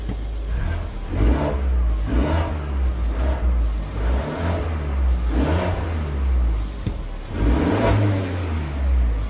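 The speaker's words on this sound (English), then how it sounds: "Let's give it a rev, because it was whistling before." A Mercedes CLA 250 AMG engine with its intercooler fitted revs repeatedly in steady, evenly spaced bursts, each climbing and falling away, loud and close with no talking.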